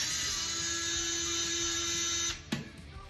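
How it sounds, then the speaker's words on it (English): A screwdriver turns out screws that hold the wires on a household thermostat. A steady high whine runs underneath and ends in one sharp click. "now we're gonna take the screws out where the wires are connected"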